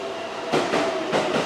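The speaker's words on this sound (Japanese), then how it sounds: "4両編成の207系電車でやってきました。" A four-car JR 207 series electric train pulls into a station, a steady rumble with rhythmic wheel-over-joint thumps at close range.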